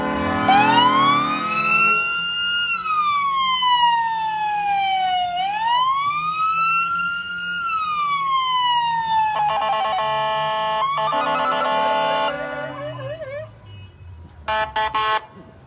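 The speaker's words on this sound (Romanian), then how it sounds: "Pune sirena un pic." Siren sounded at a street protest against corruption, long sweeping wails that rise and fall, then a rapid warbling pattern near the end, loud and close with no talk over it.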